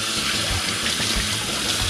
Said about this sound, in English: Turn the cold back on so I can rinse my hands off.